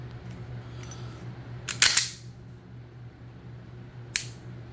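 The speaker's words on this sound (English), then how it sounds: "let's do the trigger pull" Dry-fire trigger pull and reset on a Beretta APX A1 pistol: a faint steady hum, then two short, sharp mechanical clicks, one louder break near two seconds in and a smaller reset snap a couple of seconds later, close and with no voices.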